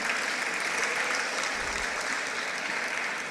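An audience of civil servants at a ceremony with the Minister of Religious Affairs claps steadily in a dense, sustained round of applause that fills the room and stays even throughout.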